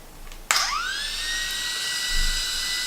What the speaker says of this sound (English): It sounds like a little vacuum cleaner, I suppose.